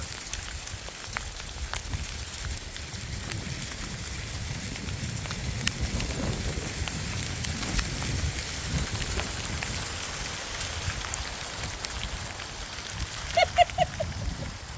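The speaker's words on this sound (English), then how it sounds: "Hail's coming down." Hail falls steadily on a garden planted with lettuce beds and peas, a dense, continuous crackling patter of small impacts that stays even throughout, with a few brief brighter ticks near the end and no voices.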